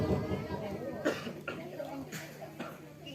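A man coughing during a Sundanese religious sermon, several short rough bursts breaking up his speech, close and fairly quiet.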